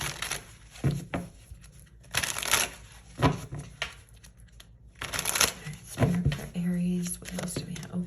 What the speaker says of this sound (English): So let's pull some more cards and see what comes out